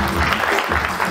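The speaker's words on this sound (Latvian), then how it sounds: "sagaidām ar aplausiem" Audience applause welcoming a speaker onto the stage at a leadership forum, a steady wash of clapping filling the hall for about a second.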